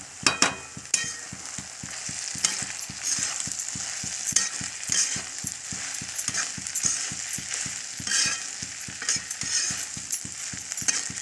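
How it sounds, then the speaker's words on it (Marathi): Khichdi with crushed peanuts is sautéed in a pan with a spoon: a steady, rapid rhythm of scraping and stirring strokes over a soft sizzle, close and fairly quiet, with no voices. "शेंगदाणा कूट टाकू. तर मस्त परतून घेऊया."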